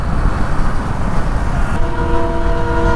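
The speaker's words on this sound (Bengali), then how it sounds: "ওই যে ট্রেন যাচ্ছে পাশ দিয়ে," Train passing close by near Maynaguri station, a loud continuous rumble of wheels and cars, with a sustained horn-like tone rising in over the second half.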